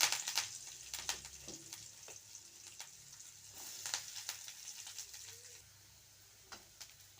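Onions and curry leaves sautéing in a pan, a quiet sizzle with scattered crackles and spatula clinks that fade toward the end, faint bird calls in the background.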